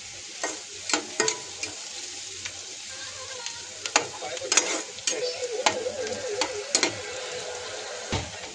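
Onion frying in a pan, a soft continuous sizzle with intermittent scraping clicks of a spoon stirring, fairly close and quiet.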